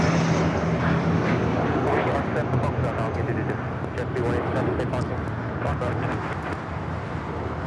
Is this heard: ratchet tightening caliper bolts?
no